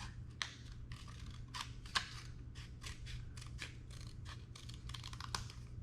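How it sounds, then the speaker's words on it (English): Scissors cut paper along a line in quick repeated snips, each a crisp close crunch in an uneven rhythm, quiet over a low steady hum, with no voices. "you're going to take your scissors"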